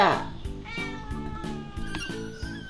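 A kitten gives a high, short meow up close while someone talks over it against a steady background of light music.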